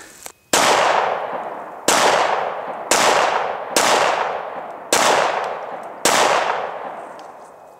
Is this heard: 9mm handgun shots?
yes